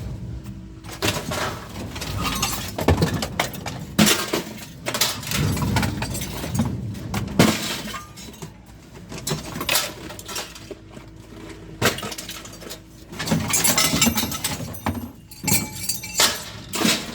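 Small bits of light iron scrap metal clatter and rattle as they drop onto a floor, in irregular bursts of sharp, close clinks and knocks.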